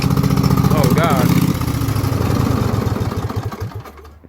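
A Craftsman lawn tractor engine with its muffler detached runs very loud and raw, a harsh close rumble that gradually fades over a few seconds.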